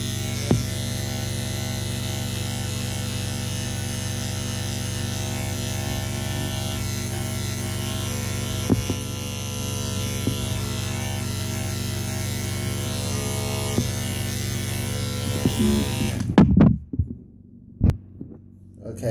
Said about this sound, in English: so now I'm going to shave completely the ears off on this side and the opposite side